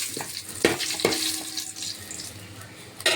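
Masala spices fry in a hot pan for chicken pulao, a continuous close sizzle broken by several scraping stirs of a spoon against the metal.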